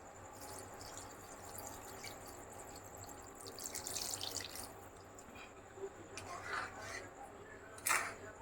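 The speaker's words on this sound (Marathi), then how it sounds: "शिजण्यापुरतं पाणी टाकते आणि मग उकळी आल्यावर सोडते" Water poured into a cooking pot with kokum and fish for a simple home fish curry: a faint, soft trickle and splash with a few brief louder gushes, while voices talk in the background.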